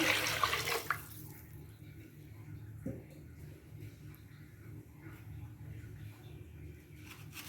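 About a litre of water is poured into a cooking pot while making nonbu kanji rice porridge. A brief splashing burst at the start gives way to a faint steady trickle and a quiet room.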